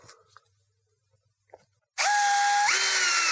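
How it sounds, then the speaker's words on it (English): Power drill boring into metal sheet while fitting a fender flare extension, a sudden loud, sustained high whine with a pitch drop partway, after a few quiet handling clicks. "and drill in the metal"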